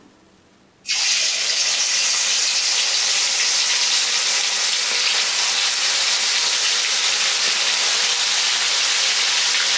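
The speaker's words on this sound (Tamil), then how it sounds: "இப்போ நம்ம ஒவ்வொரு சிக்கனாக போட்டு பொரிக்க ஆரம்பிக்கலாம்." After a brief quiet moment, a loud, steady hiss of sizzling oil starts abruptly and continues evenly as pieces of masala-spiced chicken are dropped one by one into hot oil for frying.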